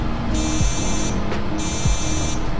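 Two long, steady high-pitched electronic beep tones from a motor driven by an ESC running ESCape32 firmware, each lasting about a second, separated by a short gap, with a low hum throughout.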